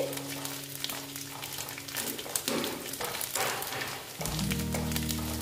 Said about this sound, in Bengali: নারকেলটা একটু ভেজে নিচ্ছি